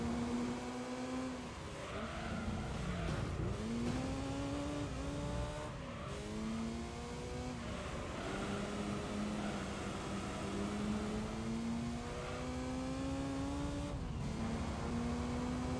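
Race cars in Gran Turismo 3 race in a pack, engines droning and rising in pitch through repeated upshifts, with faint tyre noise and a steady, continuous game soundtrack.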